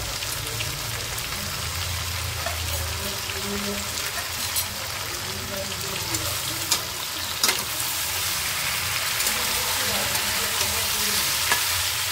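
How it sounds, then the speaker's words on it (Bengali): Mixed vegetables sauté with turmeric and chili powder for a Bengali panchmishali niramish torkari, a constant hissing sizzle with occasional soft stirring clicks, steady and close, and faint voices possible in the background. "হলুদ গুঁড়ো আর লঙ্কা গুঁড়ো দিয়ে একটু ভালো করে কষে নেব।"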